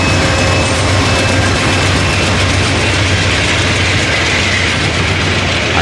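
Amtrak train 98 rolls past close by with a dead-in-tow GE-8 locomotive at a railroad crossing, a loud, dense continuous roar of wheels and rattling cars that stays steady throughout.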